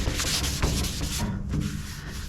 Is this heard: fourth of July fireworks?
no